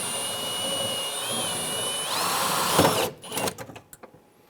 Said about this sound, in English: We're now going to go ahead and drill out the rest of the rivets.